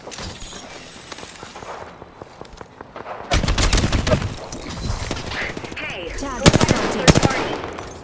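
Rapid bursts of automatic gunfire in a first-person shooter game, with a quieter stretch giving way to loud, dense volleys and a few sharp, heavy shots toward the end.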